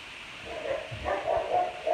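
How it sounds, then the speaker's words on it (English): Dogs bark a few times somewhere off at a middle distance, muffled yaps in a quick rhythm over a low background hiss, with no one talking. "Oh, dogs are barking."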